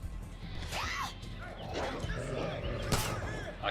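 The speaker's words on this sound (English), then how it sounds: "I feel like I heard something that sounded like a dog." A dog barks and yips at mid distance in the video game Far Cry New Dawn, a few short calls and whimpers over a noisy game ambience.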